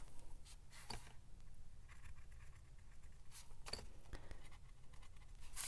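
Pen tapping dots onto paper while marking sewing holes for a junk journal signature, a few faint, sparse taps and light scratches over a steady low background hiss, no talking.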